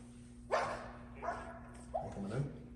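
A pointer hunting dog barks outdoors in the field, several sharp barks spaced across the moment, fairly close and loud, with a low steady hum underneath.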